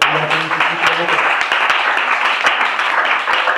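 A church congregation applauding during a Christmas service, steady dense clapping with sharp individual claps popping out, mixed with a murmur of voices and cheering throughout.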